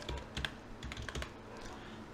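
Quick bursts of typing on a computer keyboard while entering a part name in OrCAD PSpice, several close clicks in clusters, fairly quiet with no talk.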